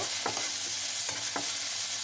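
Ginger garlic paste with turmeric, salt, cumin powder and chilli powder frying in a pan for potato chicken pakora: a steady close sizzle with a few scraping stirs of a spatula, no voices.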